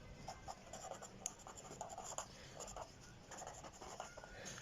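Chalk or marker writes a chemistry formula on a board in a quiet classroom: faint, close scratching strokes in short irregular bursts with no talking.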